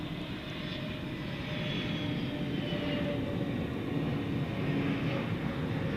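A Qatar Airways Airbus A350-1000 at night at DFW airport, preparing to take off: a steady, broad jet engine roar, fairly distant and continuous, slowly swelling a little with no voices over it.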